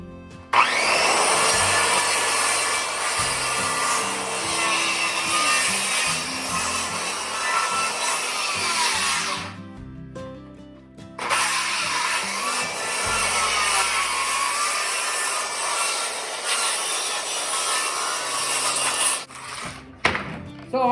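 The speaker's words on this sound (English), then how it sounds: "I have the blade put down just enough so that I can cut off these boards on this pallet." A skill saw with its blade set shallow cuts boards off a wooden pallet, a loud, close, sustained whining rasp in two long passes separated by a brief pause.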